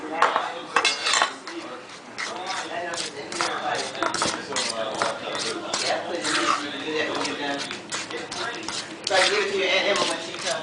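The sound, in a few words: adding sugar and mixing no-bake cheesecake filling in bowl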